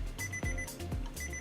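Repeated electronic alarm beeps from a drawing session timer, sounding in three bursts roughly half a second apart, steady and fairly loud with no talk over them.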